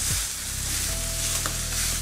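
Tengra fish coated in salt, turmeric and chilli go into hot oil, a loud, dense hiss filling the short stretch, close and steady, with a faint tonal hum beneath and no talking.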